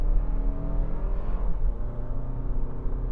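A 2023 Toyota Highlander Turbo Limited AWD with a turbocharged four-cylinder engine, heard from inside while driving: a steady low engine drone and road rumble, moderately loud and continuous, with no voices.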